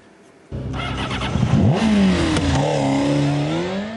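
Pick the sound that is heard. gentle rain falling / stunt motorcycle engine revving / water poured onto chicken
stunt motorcycle engine revving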